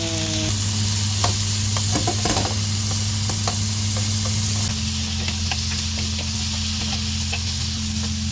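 Potatoes half-frying in hot oil in a home kitchen, giving a steady close sizzle with scattered crackles and stirring taps, under a constant low hum, with no talking.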